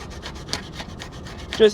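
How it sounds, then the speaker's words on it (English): Grinder nicks on a metal block-off plate are worked by hand with 400-grit sandpaper, giving quick rhythmic rubbing strokes, close and fairly loud, alone without talk. "I'm just going to take my highest grit sandpaper here, 400, and just kind of"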